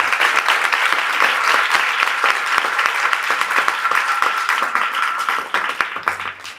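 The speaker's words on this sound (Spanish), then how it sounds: "Un aplauso para Marta." A crowd at a feminist memory gathering applauds for Marta, with dense, sustained clapping from many hands that stays even throughout before easing off at the very end.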